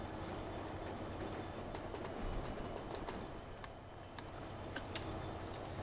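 Coal train rolling along the tracks in the game Transport Fever 2, a steady rumble with repeated clicking wheel beats, rather faint in the mix and heard alone without talk.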